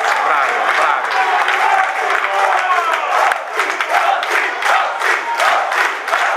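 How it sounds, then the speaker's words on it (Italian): Crowd at a youth football match featuring the Nardò team applauds and cheers loudly, a dense, continuous mix of clapping and raised shouts close to the microphone that stays strong throughout. "applausi a scena aperta"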